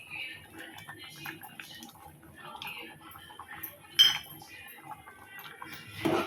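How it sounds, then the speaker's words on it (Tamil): A utensil clinks and scrapes against a pan as grated coconut is stirred into ridge gourd kootu, the light taps close and intermittent under quiet background sound. "இந்த ஸ்டேஜில் நம்ம தேங்காவை சேர்த்துக்கலாம்."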